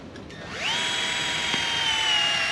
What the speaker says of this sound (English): we want to be about 2 to 3 feet up from the ground, drilling at a slight upward angle.